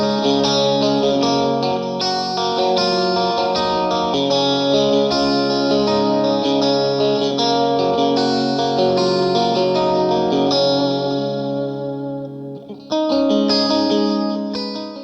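An electric guitar plays a country tone through a Fractal amp modeler patch, with a chorus-like, slightly driven sound. It plays a continuous run of bright notes, loud and close, with a brief pause before the end.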